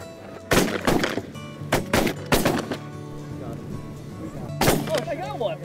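Several loud shotgun blasts ring out during a goose hunt, four or five close shots in quick irregular succession with shouting voices between them.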